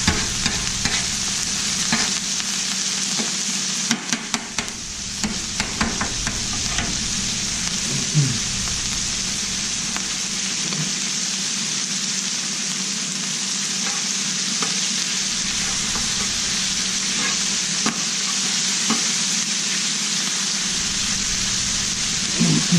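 Chorizo frying on a hot Blackstone griddle while a spatula stirs and scrapes it, a dense continuous sizzle with scattered metallic scraping and tapping, close and loud, no voices.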